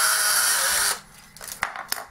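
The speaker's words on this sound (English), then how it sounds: "I'm switching straight away to my step drill bit that goes down to 9mm." A power drill bores a hole, sounding as a loud, steady high whine that stops abruptly after about a second, followed by a few quiet knocks and clicks from the tool and workpiece.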